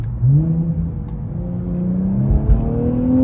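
An Infiniti Q50 with downpipes and modified intakes revs and accelerates, its exhaust a deep, rising growl, close and fairly loud, pitch climbing steadily.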